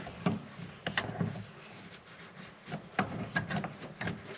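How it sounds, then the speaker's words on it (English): An Allen wrench turns to tighten a rail clamp on a Toyota Tacoma tonneau cover, close rubbing and ratcheting scrapes of metal in short irregular strokes, repeated several times. "we're going to take the Allen key that they provided, and we're going to clamp down the clamp to the rail"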